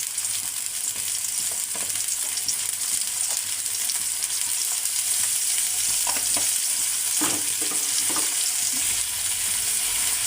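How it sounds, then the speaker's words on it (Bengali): Ground spice paste with turmeric powder, salt and dry chili powder fries in oil for a light fish curry with cauliflower, a steady close sizzle broken by a few soft stirring scrapes, with no talking. "দিয়ে মশলাটা কিন্তু খুব ভালো করে কষিয়ে নেব।"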